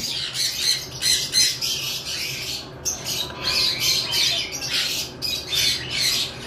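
Fischer's lovebirds, blue and green opaline birds kept as a pair, squawk in rapid, harsh bursts close by, a continuous shrill chatter over a low background hum.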